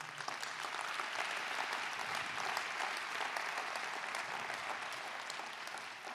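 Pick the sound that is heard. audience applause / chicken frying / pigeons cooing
audience applause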